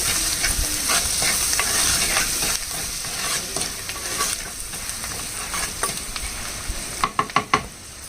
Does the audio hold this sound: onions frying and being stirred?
yes